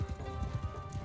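A horse gallops in the samurai game Shokuho, its hooves pounding out a quick, steady clip-clop rhythm at close range with no voices.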